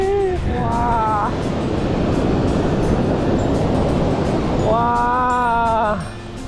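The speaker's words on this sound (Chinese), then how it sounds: "听着海浪声，跟着海浪走" Ocean surf roars broadly and continuously on Qixingtan beach in Hualien, Taiwan, a loud, close wash of breaking waves, with a person exclaiming excitedly at the start and again near the end.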